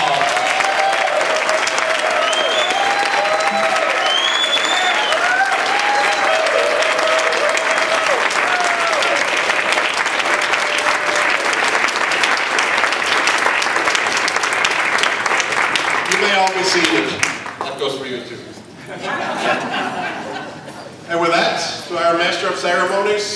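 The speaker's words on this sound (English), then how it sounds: "An applause." Sustained applause from the audience at a Toastmasters District 30 spring 2017 conference dinner, loud and continuous for about sixteen seconds before fading as a person begins to talk.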